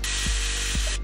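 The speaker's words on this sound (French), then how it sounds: "à coups de scie et de perceuse" A power drill whirs in one continuous high, loud run while a restaurant's outdoor terrace is built, with two short low knocks falling under it before the motor cuts off near the end.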